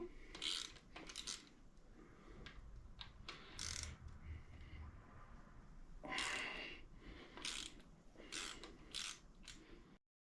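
Engine bolts being loosened with a ratchet on a blown Honda K24 engine, close metallic clicking and clanking in irregular bursts with short pauses, no talking.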